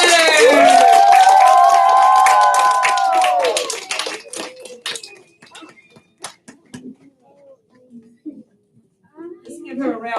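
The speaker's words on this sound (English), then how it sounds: "let's give a round of applause for our special guest, Miss Helen Keller" Schoolchildren at Franconia Elementary clap and cheer for guest Helen Keller, loud and dense at first, then thinning into scattered claps and murmuring voices that trail off toward the end.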